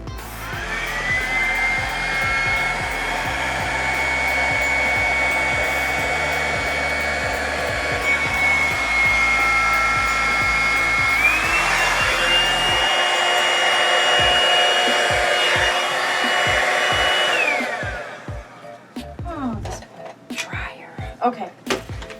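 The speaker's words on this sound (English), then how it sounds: "I'm going to use the flower dryer because it's got the smaller nozzle" A small-nozzle hair dryer blows steadily and loudly over a poured painting for about eighteen seconds, its pitch shifting slightly partway through, then switches off, leaving scattered soft clicks and handling noises.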